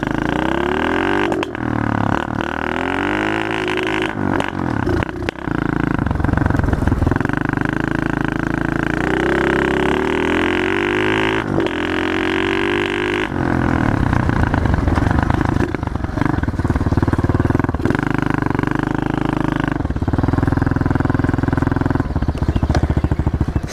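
A pit bike motorcycle engine runs continuously while being ridden, revving up and down with rising and falling pitch, loud and close throughout, with brief throttle dips and clattering mechanical noise.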